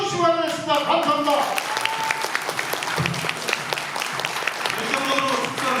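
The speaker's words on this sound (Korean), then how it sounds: "다시 한번 큰 박수 부탁드립니다" Audience applause at a Democratic Party delegates' convention in the Pocheon–Gapyeong region, following a guest's congratulatory speech; steady, dense clapping fills the hall throughout, with voices and a few shouts mixed in.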